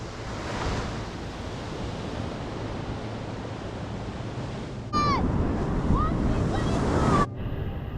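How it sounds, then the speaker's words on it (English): Ocean surf breaking on an Assateague Island beach during surf fishing, a continuous roaring wash with wind buffeting the microphone and a louder surge midway, with birds calling over the waves. "Big wave."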